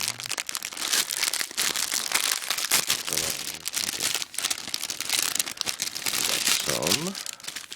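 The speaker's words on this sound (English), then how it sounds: "if I can get it out of these glassy envelopes here" Glassine envelopes crinkle and crumple continuously as patches are worked out of them, a close, dense papery rustling with occasional tearing, while a person talks over it.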